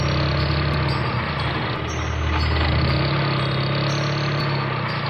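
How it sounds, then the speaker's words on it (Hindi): A car engine runs loudly and steadily at close range, holding a constant drone throughout with no voices. "बुल्ली ने गाड़ी को स्टार्ट किया और वहाँ से जाने लगते हैं।"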